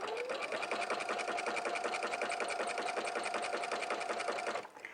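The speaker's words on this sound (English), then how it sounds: "Then lower your presser foot and then continue sewing." Sewing machine stitching steadily around the curved arm edge of a jumpsuit, a close, even mechanical whir with fast regular needle beats, stopping abruptly at the end.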